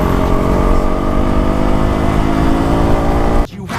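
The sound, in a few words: motorcycle engine being revved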